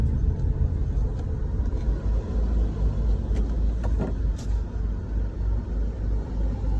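A van's engine rumbles steadily, heard from inside, a low continuous drone with faint higher clicks and knocks, no voices.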